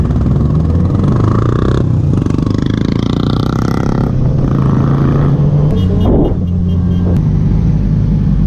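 A Royal Enfield Bullet 500 motorcycle on a Sunday group ride in Sydney runs close and loud, its deep thumping single-cylinder note swelling and easing as the throttle is blipped.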